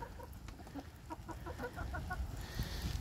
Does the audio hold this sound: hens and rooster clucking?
yes